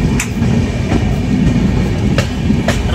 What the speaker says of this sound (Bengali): আমাদের ট্রেন ধীরে ধীরে নিউ বঙ্গাইগাঁও জংশনের 1A প্ল্যাটফর্মে ঢুকছে